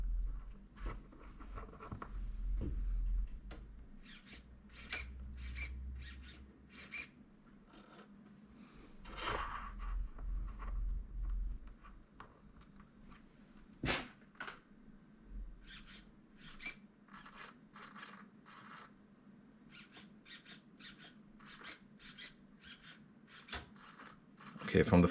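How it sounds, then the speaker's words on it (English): A Rex digital 12mm metal-gear servo runs in quick bursts of short, rasping whirs, repeated in rapid sequences with brief pauses between, close up and fairly quiet over a low background hum. "what we can hear is the Rex servo is super smooth."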